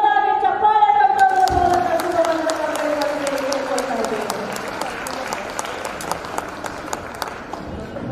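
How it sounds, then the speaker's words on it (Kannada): An audience applauds a Lingayat Dharma calendar release at the Kalyana Parva gathering in Basava Kalyan, with dense clapping building under a voice at first, then thinning into scattered claps. "ಜೋರಾಗಿ ಚಪ್ಪಾಳೆ"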